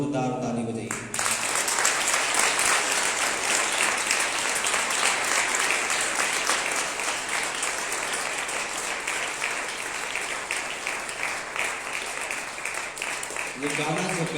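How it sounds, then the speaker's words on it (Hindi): Loud, sustained applause from a church congregation at an Easter service fills about thirteen seconds, steady and dense after a brief opening of spoken voice, with talk returning at the very end. "वो जिंदा परमेश्वर के लिए एक बार जोरदार ताली बजाइए।"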